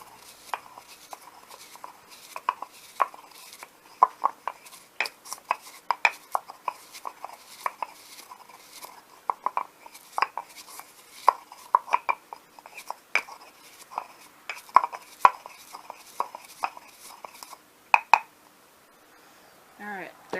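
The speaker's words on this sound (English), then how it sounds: "So now I'm going to stir" A spoon stirring a mixture clockwise in a bowl gives a dense series of quick light clicks and scrapes that carry on almost without pause, then stop near the end, with a faint voice in the background.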